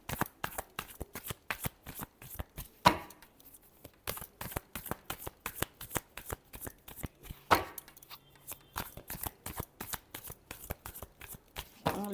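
Tarot cards being shuffled by hand, a steady run of crisp riffling flutters close to the mic with a couple of brief pauses and no voice over it.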